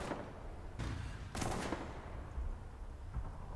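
Tank cannon fire in War Thunder, tested against a Maus: two or three heavy booming shots over a constant low engine rumble, with a fainter thud near the end and no talking.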